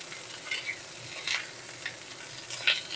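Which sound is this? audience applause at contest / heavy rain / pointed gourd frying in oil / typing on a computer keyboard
pointed gourd frying in oil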